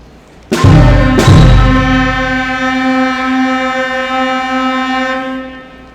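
A beginner band plays two notes in quick succession, the second entering a moment after the first, then both hold as a sustained, slowly fading tone.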